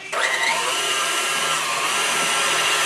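An electric mixer beats cake batter with eggs in a bowl, starting up and then holding a loud, steady motor whine with no talking.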